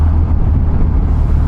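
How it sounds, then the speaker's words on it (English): A motorbike filters through M8 motorway traffic on a commute home, heard as a loud, steady low roar of engine and wind buffeting with no talk. "I am in Misery City, filtering through the M8 traffic, heading back home from work."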